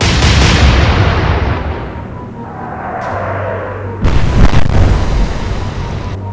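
Heavy naval guns in Atlantic Fleet fire a booming salvo that rumbles and fades, followed a few seconds later by another loud, close detonation with a long rolling tail.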